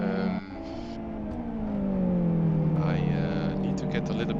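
Race car engines in the CityLiga online racing game whine and rise in pitch as they accelerate, a continuous revving drone that swells gradually and holds steady over four seconds.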